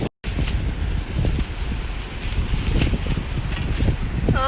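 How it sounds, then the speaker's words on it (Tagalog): Strong wind gusts roar and buffet the microphone continuously on a high suspension skywalk in Shizuoka, Japan, loud and close, with a brief voice near the end. "Ito na naman yung malakas na hangin."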